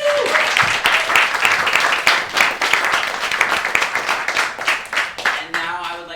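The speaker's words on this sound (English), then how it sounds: "So let's give them all a round of applause." An audience at a climate-themed film festival panel applauds, with a dense, steady patter of many hands clapping for about six seconds before it thins out, and a voice briefly overlaps near the end.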